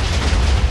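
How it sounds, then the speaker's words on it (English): A short, deep rumbling boom from an explosion in Minecraft, a dense low-heavy blast lasting under a second with no talk. "I hear a lot of explosions."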